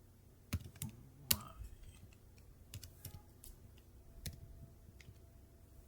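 Typing on a computer keyboard while text is entered in Vim, irregular soft key clicks with a few louder taps, close and quiet, no talk.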